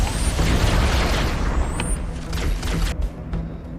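Grenade blasts in the Halo combat game, a dense rolling roar of booms that fills the whole clip at high level, with sharp pops and debris near the end and no talk.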